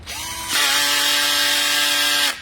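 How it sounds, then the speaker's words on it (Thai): A BKK 85V cordless impact drill set for screw driving spins up, runs with a loud steady whining motor for about two seconds, then stops, preceded by a quieter idle hum. "อันแรกก็จะเป็นระบบยิงสกูนะครับ"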